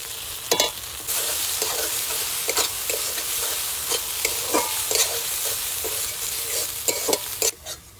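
Masala with Kashmiri chili powder and chopped tomato is stirred in an oily pan, steady sizzling broken by repeated scraping strokes and clinks of the spoon against the pan.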